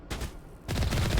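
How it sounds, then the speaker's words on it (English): Turrets in the video game Mass Effect open fire, rapid bursts of gunshots in two volleys separated by a brief lull, loud and close. "Like turrets shooting at the rank."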